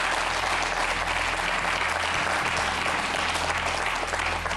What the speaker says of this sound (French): On va vous applaudir très fort d'ailleurs pour vous encourager